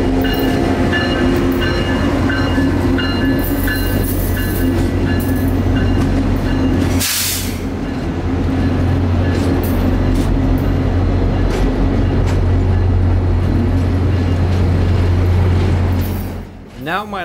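A CSX freight train with locomotives rumbles past close by with steady clattering wheels and a low droning engine, loud and continuous, fading out at the end.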